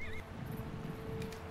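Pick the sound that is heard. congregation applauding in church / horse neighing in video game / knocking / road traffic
horse neighing in video game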